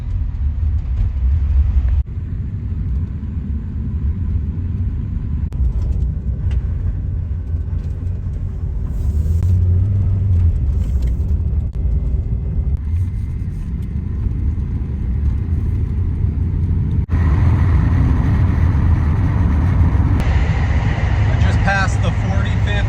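A Chevy Express van cruises along an Oregon freeway in snowy conditions, its cabin filled with a constant low road rumble and engine drone that shifts in tone partway through, while someone talks over it.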